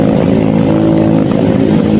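A motorcycle engine with a clogged exhaust runs rough and loud up close, sputtering and popping unevenly with backfire-like bursts over a steady low drone.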